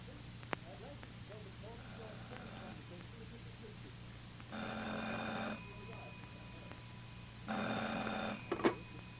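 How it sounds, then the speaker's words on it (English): An old-style telephone bell rings in two bursts on a radio drama, each about a second long, a few seconds apart, over a steady mains hum with soft murmuring sounds before the first ring. "the phone rang."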